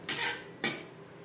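Two quick metallic scrapes of a spatula against a pan sound about half a second apart as papaya curry is stirred over a high flame, close and clear with no voices.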